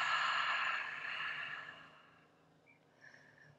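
A long, soft breath exhaled through the mouth during yoga breathing, airy and close, fading out gradually, followed by a faint quiet tail.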